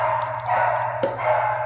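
A dog barks in the background while a female American bully eats raw oxtail nearby, a short sharp bark standing out from steady low hum and room noise.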